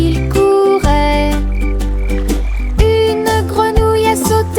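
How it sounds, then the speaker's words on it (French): A frog croaks in a loud, close cartoon-style series of deep ribbits within a cheerful children's nursery song about a boat trip, with bright melodic accompaniment and no speech. "Une grenouille a sauté et a fait signe de la main."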